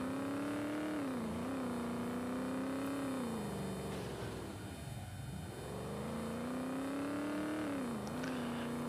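Chevrolet Camaro engine in a racing video game, a steady droning engine note that dips and rises as the car slows and speeds up, loud and continuous with no talk.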